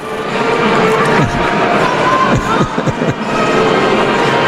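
A women's basketball team gives a loud mid-court cheer after a win over Saint Leo, with crowd noise and shouting voices filling the gym steadily and a few sharper bursts near the end.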